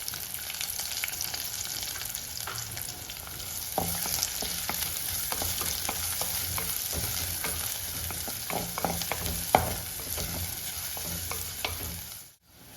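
Finely chopped onion fries in a pan of oil with ginger and garlic for a Kerala-style tomato curd curry. A continuous close sizzle is punctuated by frequent spoon scrapes and taps as it is stirred; no voices.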